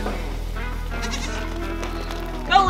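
Registered Nubian myotonic fainting goats on a farm bleat steadily and loudly up close over a low mechanical hum, with a sharper cry near the end.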